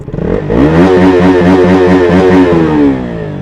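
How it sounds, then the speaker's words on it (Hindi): A KTM RC 200 motorcycle engine revs up hard and holds a loud, rising, throaty roar with rhythmic pulsing before easing off near the end, close by with no talking. "पहले तो आवाज़ सुनो भाई बाइक की"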